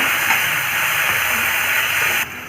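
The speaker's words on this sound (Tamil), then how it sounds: "தக்காளி ஆட் பண்ணிக்கோங்க அதையும் வதக்கிக்கோங்க" Onion, green chilli and tomato sizzle in a pan with a steady, close hiss that continues evenly before dropping off slightly near the end; no one speaks.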